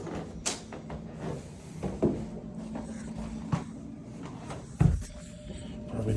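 An interior door in a house being swung shut, a few soft thuds and clicks of hardware scattered through a quiet room, with one firmer knock near the end.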